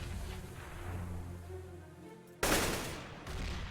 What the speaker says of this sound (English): Great headshot there by Styler J onto Dead Saw.